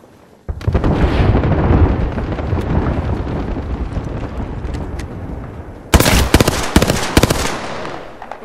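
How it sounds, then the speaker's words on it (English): Rumbling airstrike barrage in the Apex Legends battle royale game: a sustained roar of overlapping explosions, then a sharper cluster of loud, crackling blasts near the end. "Airstrike en route"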